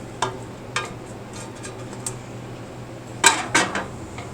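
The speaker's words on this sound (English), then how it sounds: "Stir that all together." Ramen noodles with soy sauce, eggs and flavor packets stirred in a pot, heard as a handful of separate utensil clinks and scrapes against the metal, with a louder double knock near the end over a quiet background.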